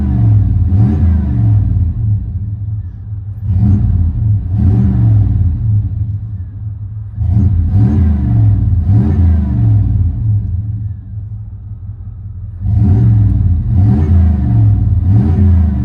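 A 1994 Chevy 1500 pickup with a 5.7L V8 and Flowmaster 40 Series exhaust revs loudly in four repeated bursts, each a deep rumbling climb that falls back to a steady idle, heard up close.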